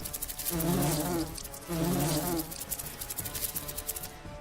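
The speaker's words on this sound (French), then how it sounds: "c'est la guêpe verte hein, qui nous pose le plus de problèmes" A green wasp enemy in the fantasy role-playing video game Lords of Xulima buzzes loudly in two swelling bursts, a droning insect hum with a rapid wingbeat flutter, followed by a quieter, choppier buzz.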